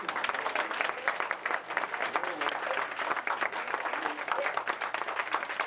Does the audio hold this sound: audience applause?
yes